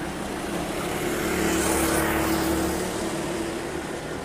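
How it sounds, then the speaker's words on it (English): A Rookie R1 racing car drives down a back straight, its engine a steady droning hum that swells as it passes nearby and fades slightly after, heard alone without talk. "This car's capable of slightly over 40 miles an hour in the right hands."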